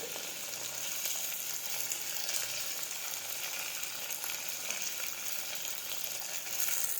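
Spices hit hot oil for a Gujarati guvar (cluster bean) and potato curry, giving a steady, close, bright frying sizzle that holds at an even level with no voices throughout.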